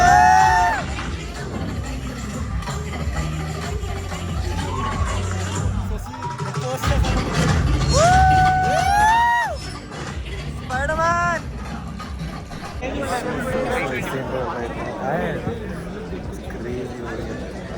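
A decent-sized crowd of Spider-Man fans chatters and cheers at a cinema in Hyderabad, a loud, busy babble with excited shouts and whoops rising over the din.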